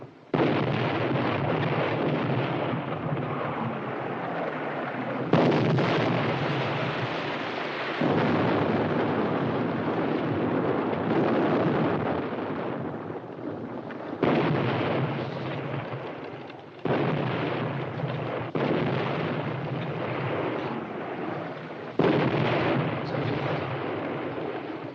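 Continuous heavy battlefield barrage with artillery and Werfer rocket fire in a 1962 radio drama of Hemingway's young man at war, loud rumbling blasts layered densely, with several sharp new bursts every few seconds and no voices.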